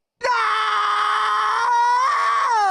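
A character from a Ratchet & Clank game lets out a loud, sustained scream that starts abruptly and holds steady for over two seconds, wavering slightly in pitch near the end.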